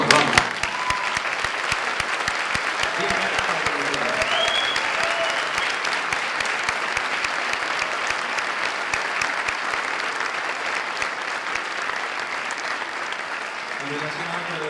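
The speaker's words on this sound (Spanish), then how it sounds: "un aplauso, por favor, vamos." An audience at a tech and arts event applauds for nearly fifteen seconds, a steady wash of many hands clapping at an even level, with a voice speaking over the start.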